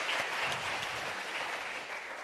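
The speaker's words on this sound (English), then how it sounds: "If you can just give her a round of applause" A crowd applauding steadily, a dense wash of clapping hands that fades slightly toward the end.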